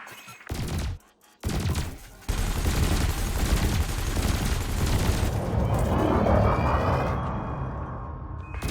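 Ship weapons in the space game Elite Dangerous fire at floating canisters during a combat exercise, with bursts of loud gunfire cut by brief pauses, then a sustained roaring barrage that fades into a ringing tone.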